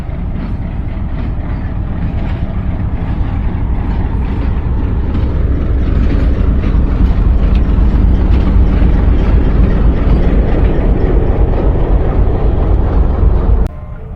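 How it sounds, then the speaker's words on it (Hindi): A diesel shunting locomotive arriving at a railway station, a steady loud low rumble and roar that swells slightly midway and holds before cutting off abruptly at the end. "और ये आ रहा है शंटिंग लोकोमोटिव"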